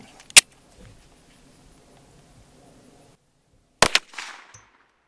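Sharp, loud gunshots from a non-ported Glock 42 pistol firing .380 ACP Liberty Civil Defense 50-grain rounds. One crack comes at the start and a close pair follows later, with a short echo tail and quiet background between shots.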